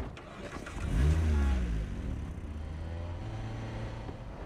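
A car in Cyberpunk 2077 pulls away, its engine revving up with a rising whine before settling into a steady mid-pitched drone as it drives off, fairly close and with no talk over it.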